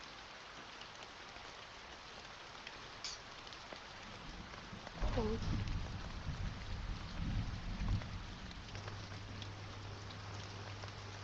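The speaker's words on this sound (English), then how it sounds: "it's raining. We should go inside." Rain falls outdoors as a soft, steady hiss, joined midway by low rumbling that could be distant thunder; a brief spoken word is heard.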